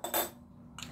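Metal spoons pulled from a damp mixture of Adyghe salt and fresh garlic, two short scraping clinks close by over faint room hum.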